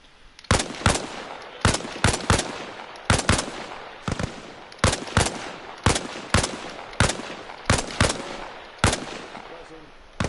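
Machine gun suppressing fire during a video game training session, repeated short bursts of sharp, loud shots spaced evenly with brief gaps between them.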